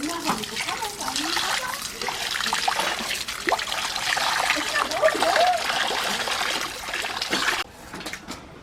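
Cold water runs and splashes over cooked chow mein noodles being rinsed, a steady close trickle and spatter lasting about seven seconds before it cuts off.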